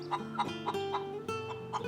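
A mother hen gives a string of quick, close clucks, calling her chicks over to food she has found while scratching in the dirt; the clucks repeat at a steady, rapid pace.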